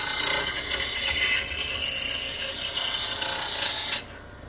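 A lathe gouge is touched and rolled against the wheel of a slow speed grinder, giving a steady, close, high hissing rasp that runs for about four seconds before it cuts off.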